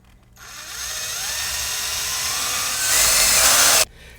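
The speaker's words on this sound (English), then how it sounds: "and then just start my drilling." Oiled drill bit boring into a part of a Ruger .454 Casull Alaskan revolver: a steady, close whine that holds for about three and a half seconds, grows louder near the end, then cuts off abruptly.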